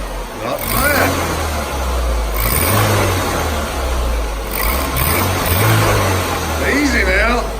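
A 2002 Ford Focus SOHC engine runs after a dropped valve seat repair, idling with a rough, loud rumble that swells with revs. People talk over it.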